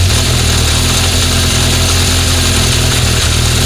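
A 1976 Honda CB750F1 four-cylinder motorcycle engine idles loud and close during carburettor balancing, a steady, even rumble with no revving and no voices.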